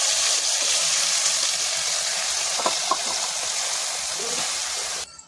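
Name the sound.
tomato pieces frying in hot oil for pickle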